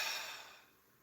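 A single breath is exhaled through the mouth with a soft, airy ha sound, close and quiet, fading out over about a second.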